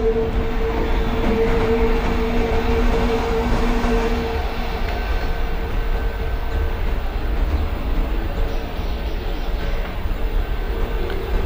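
Passenger train pulling away from a junction in Microsoft Train Simulator, the 51809 Kanpur–Tundla Fast Passenger: a steady loud rumble of rolling stock with a humming engine tone and faint rail clatter throughout.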